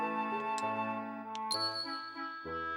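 A small bell in the Xenogears video game rings several times, bright metallic dings over a sustained game music backdrop, each strike clear and lingering.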